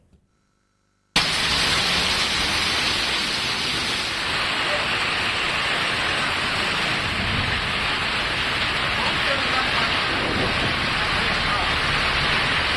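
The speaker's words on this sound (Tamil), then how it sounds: "பலத்த காற்றுடன் சுமார் 1 மணி நேரத்திற்கும் மேலாக பரவலாக மழை பெய்தது" Heavy rain driven by strong wind during a thunderstorm in Chennai pours as a dense, loud, unbroken hiss that starts abruptly after a moment of silence and keeps up steadily.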